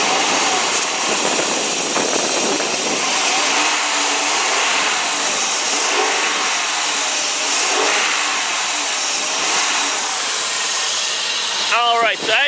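The 4.7 liter V8 Magnum engine of a 2001 Dodge Durango roars loud and close under the open hood, holding a dense steady drone with mild swells as the throttle is worked.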